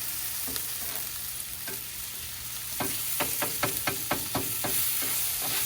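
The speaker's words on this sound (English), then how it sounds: "We'll put a little pool of olive oil right there and we'll put that in." Steak searing in a pool of olive oil on a Blackstone griddle outdoors in the snow, a steady sizzle under a run of sharp scraping and stirring clicks from a spatula in the second half.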